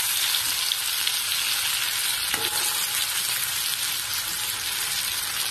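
Okra (bhindi) frying in hot oil for a vegetarian Bengali dish, a steady close, loud sizzle and crackle running throughout with one brief stir or scrape midway.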